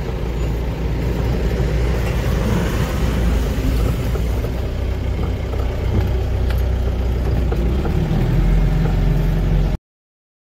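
A goods transport vehicle driving along a road, a steady loud engine drone and road rumble heard from inside the vehicle, continuous for about ten seconds before cutting off.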